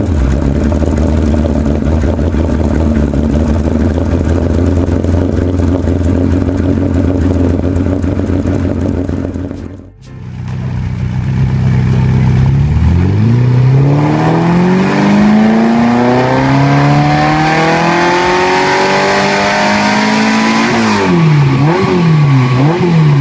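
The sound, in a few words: TVR Cerbera V8 engine exhaust note, revving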